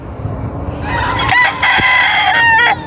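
Roosters crowing and hens clucking at a hillside chicken farm, with a loud, close cock-a-doodle-doo rising over a background of scattered clucks and farmyard noise.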